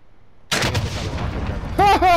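A Strela-P rocket launcher blast in Call of Duty: Modern Warfare, one sudden loud boom with a rumbling tail, followed by a shouting voice near the end.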